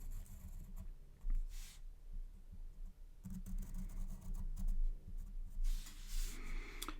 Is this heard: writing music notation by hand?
yes